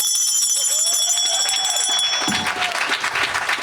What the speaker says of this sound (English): So let me ring the bell as a partner.